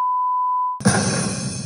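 A steady pure-tone censor bleep sounds for under a second, then cuts off abruptly into a cartoon's dialogue and background noise.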